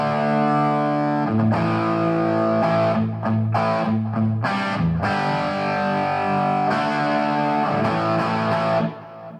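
A distorted electric guitar plays through a stock 1972 Marshall JMP 50-watt amp with the presence, middle and treble set around 6 to 8, giving loud, sustained chords and riffs that ring thick and a little fuzzy, close and continuous.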